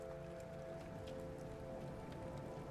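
Steady rain falls in the No Man's Sky video game, a continuous even patter with scattered drops over a low droning hum, constant in level and with no one speaking.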